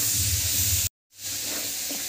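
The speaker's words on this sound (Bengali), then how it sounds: "এটাকে আমি ভাজবো।" Kochkochi and liver fry in hot oil for pulao with a steady, close sizzling hiss. The sound cuts to silence for a moment and then the sizzle resumes.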